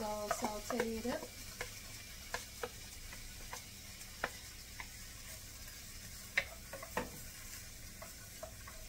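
Minced garlic sautéing in a pan for vegan shrimp and grits: a faint, steady sizzle broken by scattered light clicks and scrapes of stirring.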